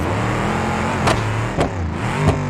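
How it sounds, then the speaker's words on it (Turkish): SUV engine revving in an off-road driving video game, a steady mid-pitched drone with three short sharp exhaust pops spaced across it, close and alone. "Egzoz patlatıyor be. Gaza bassam uçacak gibi hissediyorum var ya."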